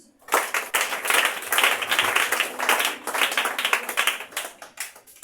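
Church congregation clapping and applauding for Jesus, a dense, sustained burst of many hands with uneven peaks, close and loud, lasting the whole stretch with no talk over it.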